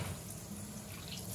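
Warm water running steadily from a tap while a French bulldog is bathed in a home bathtub, a continuous close splashing stream with no pauses.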